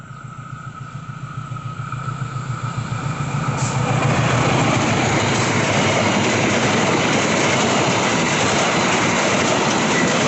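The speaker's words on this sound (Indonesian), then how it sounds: "ada kereta lewat kayaknya nih" A train rumbles past nearby, its rhythmic clatter building over a few seconds into a loud, steady roar with a faint high squeal.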